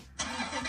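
A small battery ride-on toy Jeep switched off and back on, a brief quiet lull followed by a sudden electronic startup tone and steady hum, close and alone.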